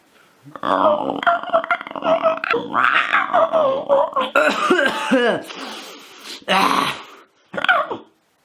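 A voice growls and rasps from the throat, imitating a snarling creature, in rough bursts with short pauses and a cough-like break near the end.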